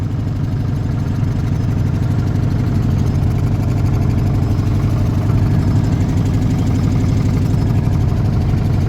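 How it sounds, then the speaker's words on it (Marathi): A boat's engine runs at a steady idle-like chug as the boat starts moving at night on the river at Kashi, a continuous low mechanical drone with no voices. "फायनली बोट चालायला लागली"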